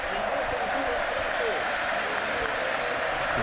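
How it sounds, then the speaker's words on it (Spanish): Stadium crowd at a Chilean football final applauding a player, a steady dense wash of clapping and crowd noise held at an even, loud level throughout, with no single voice standing out. "Van a escuchar los aplausos para el jugador experto Isi del partido"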